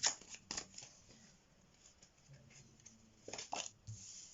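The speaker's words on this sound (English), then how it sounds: "Remember, I am shuffling" Tarot cards are shuffled by hand in short riffling bursts, a quick flurry at the start and again near the end, with quiet handling between.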